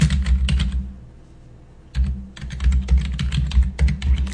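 Fast, continuous clattering keystrokes on a computer keyboard while a short PL/SQL program is being written, close and clear, with one brief pause before the typing resumes.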